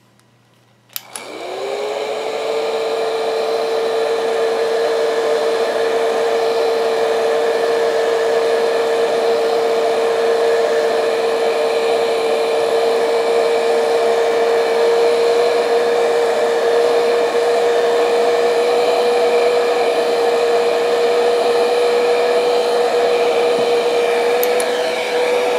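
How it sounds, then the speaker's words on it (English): Heat gun blasting hot air onto a cable to soften it, starting with a click and then holding a steady, loud, even whine and rush of air that runs uninterrupted to the end. "Now taking your heat gun, we're going to hit it for a minute or two here until we know it's softened up."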